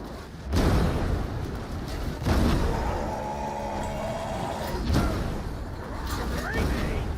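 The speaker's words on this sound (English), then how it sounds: "Here a hand grenade!" A hand grenade explodes in Warhammer 40,000: Darktide, a deep, loud boom among several heavy blasts. Dense combat noise and character voices fill the scene around it.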